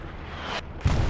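A grenade blast in the World War II shooter Hell Let Loose, a single sharp boom near the end of the moment after a quieter stretch of battlefield ambience.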